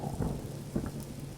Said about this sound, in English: it's raining inside my base